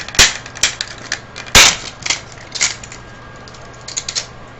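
Plastic casing of an Epson Stylus NX230 printer is pried open, giving a string of sharp, loud snaps and cracks at irregular intervals with quieter creaks between them, close up and with no talk.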